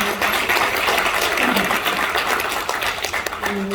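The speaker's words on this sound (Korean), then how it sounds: "다시 한번 박수 부탁드립니다." Applause from the audience at a political invited lecture in Geumjeong-gu, Busan, steady and dense, lasting the whole stretch at fairly close range with no talk over it.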